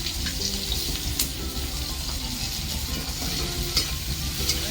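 Onions sizzling and frying in a pan for a chicken curry: a loud, continuous close hiss and crackle with a few sharper clicks, steady throughout and free of speech.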